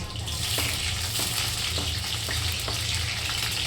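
Curry leaves crackle and sizzle in hot oil already holding cumin, garlic and chili, a dense, loud, continuous frying hiss with faint spatters.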